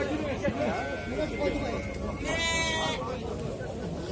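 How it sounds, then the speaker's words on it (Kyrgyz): Sheep with lambs at a livestock market in Jalal-Abad, one clear bleat rising over a constant murmur of voices and crowd noise, with faint animal sounds in the background. "Козулу койлорду алып чыгып келет"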